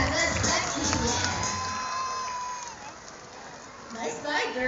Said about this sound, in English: another round of applause for Sandra.